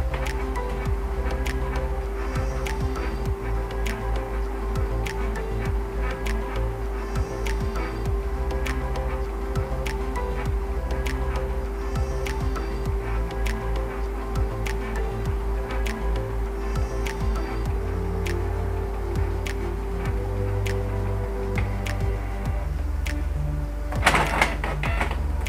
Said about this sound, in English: So the printer will print the EEPROM data.